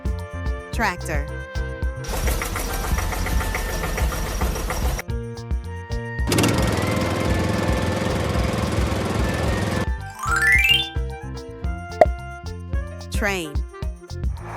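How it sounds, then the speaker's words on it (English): A tractor engine runs with a steady, dense rumble that comes in two sustained blocks between other short vehicle-like sounds, fairly loud and close, with a voice naming vehicles in between. "Tractor."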